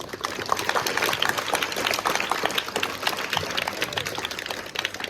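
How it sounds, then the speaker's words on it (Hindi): Audience clapping at a school event honoring students, a continuous dense crackle of many hands applauding for a singer and anchor on stage. "एक बार तालियां बजाकर जिन्होंने एक बहुत अच्छा गीत गाया और जिस तरह से वो एंकरिंग कर रहे हैं"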